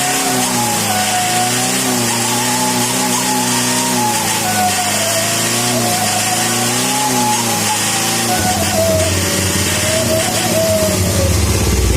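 A motorcycle engine rumbles close by, its pitch rising and falling with repeated revs, then settling into a rougher idle near the end.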